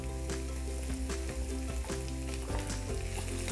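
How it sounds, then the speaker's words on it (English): Shrimp frying in a hot pan for fried rice, giving a steady, loud, dense sizzle with a few stirring clicks throughout. "So I'm gonna add my shrimp in now."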